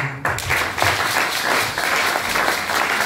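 A church congregation applauding Jesus during a service, loud, sustained clapping from many people filling the room, rising after a brief start and staying even to the end.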